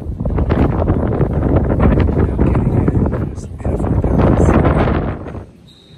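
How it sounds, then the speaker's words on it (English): Strong wind buffets the microphone in loud, rumbling gusts near Versailles, France, easing off and then dropping away near the end. "Windy today."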